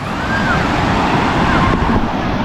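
Continuous roar of sea surf and waves on a beach with bathers, with wind noise, steady and fairly loud throughout.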